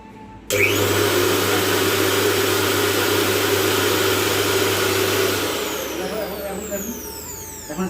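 An electric grinder powdering cinnamon, cloves and black pepper starts abruptly and runs with a loud, steady whirring roar, then slows and winds down near the end.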